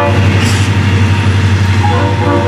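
An EMD diesel locomotive passes close by, its loud, heavy engine drone steady and unbroken throughout, with a brief higher rail squeal near the start.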